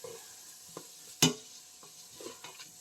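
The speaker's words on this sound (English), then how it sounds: "Let the meat and the onions kind of saute in the spices." Ground meat and onions sautéing in spices for chili, a soft steady sizzle broken by scattered stirring scrapes and one sharp utensil knock, close and moderately quiet.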